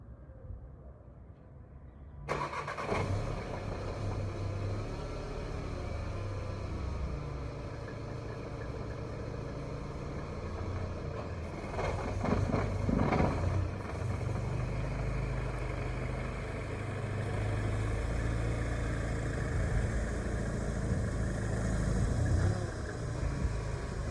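An Audi A3 converted to an S3 runs before its first test drive, a steady engine hum that starts abruptly and holds with slight swells, heard close from inside the car with no talking.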